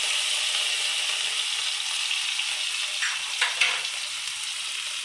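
Cumin seeds and crushed garlic sizzle steadily in hot oil for an Odia okra dish, a constant bright hiss with a couple of faint stirring scrapes near the end.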